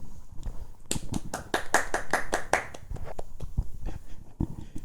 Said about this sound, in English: Let's give a round of applause for Shabi.